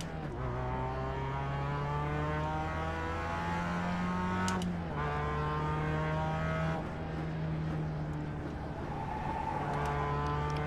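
Mazda MX5 Cup race car engine in iRacing at Charlotte Motor Speedway, droning steadily at low revs through slow laps, with a few gear shifts and pitch changes and no talk.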